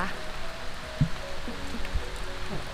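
Rain falls steadily around a resort at the foot of a mountain, a soft, even hiss of drops on surfaces with a few faint thumps and low murmurs of people in the background.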